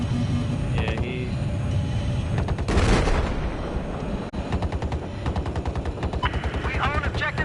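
Rapid automatic gunfire in a military video game, players shooting at a jet. Dense, loud bursts run throughout, with heavier blasts mixed in, while players talk over the shooting.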